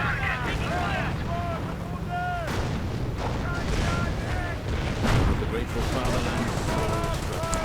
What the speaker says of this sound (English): More rockets pelting the ground.